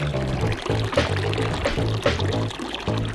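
Cold mountain spring water pours steadily in the Zagori region of Epirus, with a continuous splashing, running flow. A watermelon is being chilled in the icy spring. The flow is close and fairly loud throughout.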